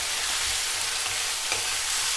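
Whole tomatoes sautéing in a pan for mutton kuzhambu, a dense, constant hiss of frying with faint stirring scrapes, close and loud, no voices.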